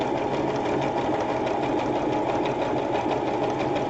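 A sewing machine runs steadily and close while stitching an embroidered rope bowl, a fast continuous mechanical chatter that holds at the same level throughout.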